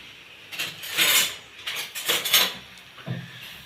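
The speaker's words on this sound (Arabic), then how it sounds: "الطبق بتاعنا نجيب معلقه" A metal spoon taken out and set against an aluminium plate, producing several bright clinks and scrapes in quick bursts, close and fairly loud with no talk.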